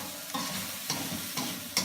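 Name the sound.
stirring noodles in a frying pan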